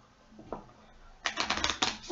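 A quiet pause with a couple of soft taps, then a quick burst of rapid riffling clicks as a deck of playing cards is shuffled nearby.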